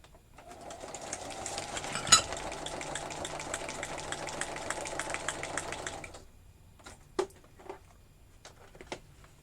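A sewing machine runs a zigzag stitch around the edges of an envelope, a steady close mechanical whir with a rapid rhythmic needle pulse that stops partway through, followed by a few light clicks and taps.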